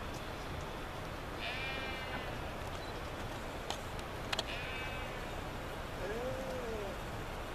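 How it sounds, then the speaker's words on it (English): Sheep bleating down below a hillside near Borgund stave church in Norway, a few faint distant bleats over steady wind and outdoor hiss, with a brief knock or two. "there's a sheep talking down there"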